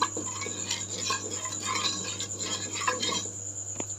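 Drumstick leaves being mixed by hand with rock salt in a bowl, giving a steady close rustle with small clinks and scrapes throughout, and no talking.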